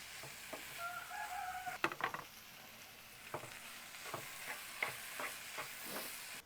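Tomatoes frying in a pan for a simple baby potato curry, a soft steady sizzle broken by scraping stirs and spoon knocks, with a faint rooster crowing in the distance.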